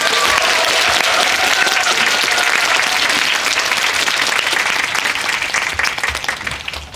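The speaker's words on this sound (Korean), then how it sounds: "봉준호 감독님 입장하실 때 큰 박수로 맞이해 주시기 바랍니다." Loud, dense applause fills a Dolby cinema as an audience welcomes director Bong Joon-ho, sustained clapping holding strong for several seconds before easing slightly at the end.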